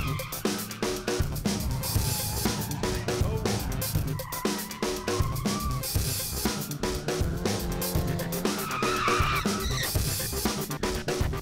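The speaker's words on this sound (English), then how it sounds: "a well-executed drifting vehicle is a thing of grace, similar to figure skating except with lots of tire smoke" Drift cars slide through a course in Tampa, tires squealing over loud, revving engines in a continuous, busy roar with repeated skids.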